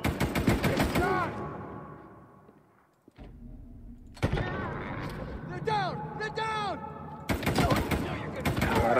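Firefight in the video game Days Gone: bursts of rapid automatic gunfire, a brief quiet gap, then more volleys with ringing echoes, loud and close, with someone talking over parts of it.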